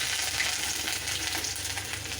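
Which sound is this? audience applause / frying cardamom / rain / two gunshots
frying cardamom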